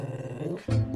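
A dog on an amateur football pitch gives a short, rough growl-like sound that swells suddenly near the end over a steady murmur of background noise.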